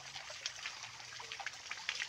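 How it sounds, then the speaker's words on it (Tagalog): Clear mountain creek near a washing spot, flowing continuously as a faint, steady trickling babble with small splashes, quiet and unbroken, no talk. "Wala nang patayan ng gripo yan. Tuloy-tuloy ho ang buhos niyan. Araw at gabi. Yan pong sapa na yan."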